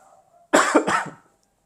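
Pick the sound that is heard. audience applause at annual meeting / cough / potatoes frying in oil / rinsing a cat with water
cough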